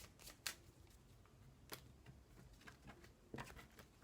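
Playing cards are handled and laid down for a card reading, quiet scattered flicks and soft taps spread across a few seconds, close and faint with no talk.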